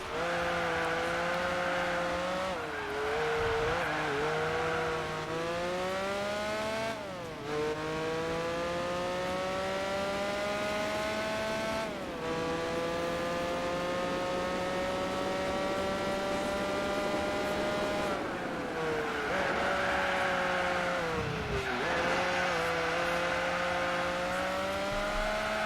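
In Gran Turismo 4 endurance racing, a race car engine drones continuously. Its pitch climbs through each gear and drops at every shift, with several shifts heard and the sound staying loud and close throughout.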